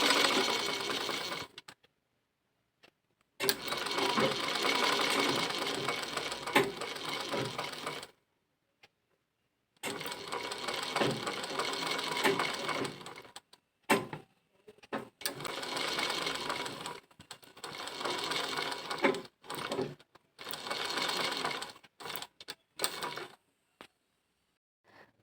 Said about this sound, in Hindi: हम कितने आराम से सिल रहे हैं। हमें इसको आराम से एकदम अच्छे से स्टिच करना है।